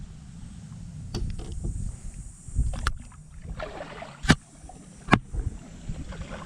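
A kayak is paddled on water during a bass fishing trip, with quiet water swishes and occasional sharp knocks of the paddle against the hull over a faint, low background.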